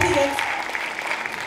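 Audience applause at a 2016 film gala, a brief burst of clapping that is strongest at the start and then thins out, with voices talking over it.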